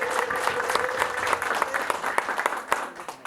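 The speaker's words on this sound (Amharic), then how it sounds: "ከፍ ያለ እልልታ ጭብጨባ ለእግዚአብሔር" A church congregation breaks into a short burst of applause for God during a sermon, dense clapping with a voice carrying over it.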